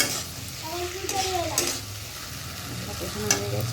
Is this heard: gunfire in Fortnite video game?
no